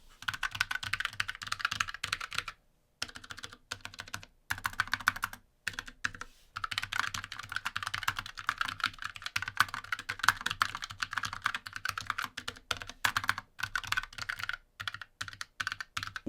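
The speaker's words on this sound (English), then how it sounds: "that's gonna go right into the sound as well with these Fnatic low profile switches" Fast, steady typing on a Fnatic low-profile gaming keyboard with thin keycaps, a dense run of crisp, close keystrokes with a few short pauses and no talking.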